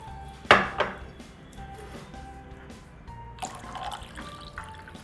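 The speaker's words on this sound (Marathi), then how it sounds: "यात आपण घालून घेऊ पाणी." Water poured into a raw mango sharbat mixture in a kitchen, opening with a loud clink of a glass or vessel, then a second knock, followed by a soft trickle and splash of liquid.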